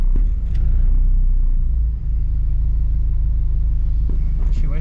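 A supercharged Acura RSX engine drones loud and close from inside the moving car, a steady low rumble with a brief dip before the throttle comes back on; faint voices sit under the engine noise.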